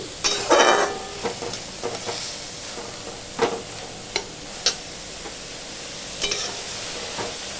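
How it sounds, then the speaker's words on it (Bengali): Neem leaves and eggplant fry with salt in a pan, giving a steady close sizzle broken by scraping stir strokes and sharp clacks of a spatula. "নুন দিয়ে এটা ভাজা ভাজা হবে।"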